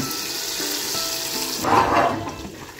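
Butter melting in a pan on an outdoor stove while beef biryani is being cooked, giving a soft steady sizzle that swells briefly louder partway through, faint and close, with no talking.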